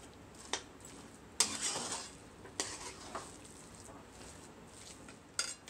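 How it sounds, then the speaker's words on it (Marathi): A jaggery and sugar mixture is stirred continuously in a kadhai from the bottom up, with soft scraping strokes and a few sharp spoon knocks against the pan over a faint sizzle. "आता हे मिश्रण आपण सतत ढवळत राहूया, अगदी कढईच्या तळापासून"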